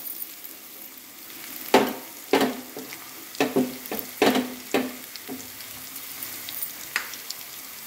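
Ginger garlic paste fries in a hot pan under a steady sizzle, broken by a series of sharp scraping stirs, about a dozen strokes at irregular intervals, close and clear with no talking.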